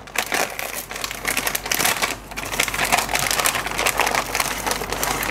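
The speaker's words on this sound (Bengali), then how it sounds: "তো ফ্রেমটিকে যদি আমরা একটু আনপ্যাক করি" A 450 mm DJI clone drone frame is unpacked, producing close, continuous crinkling and rustling of plastic packaging with sharp crackles, loud and busy throughout.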